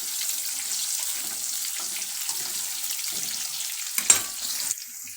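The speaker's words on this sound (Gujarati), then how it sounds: "હવે આપણે એ જ રીતે બીજી વેફરને પણ હું એમાં નાખીશ અને એને આ રીતે હલાવીશ" Oil sizzles steadily as raw banana chips fry, with soft stirring scrapes and a sharper clink near the end.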